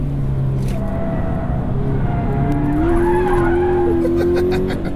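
A 2018 Subaru BRZ tS slides around a race track, its tires squealing in a long rising screech over a steady engine drone, close and loud.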